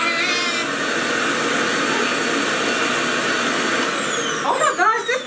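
A Revair reverse-air hair dryer runs loudly and steadily, a harsh close vacuum-like roar that holds throughout, with a brief rustle near the end.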